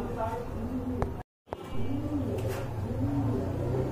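Pigeons cooing softly in a loft of pet pigeons kept in pairs, low repeated coos under steady background chatter and a brief dropout in the middle.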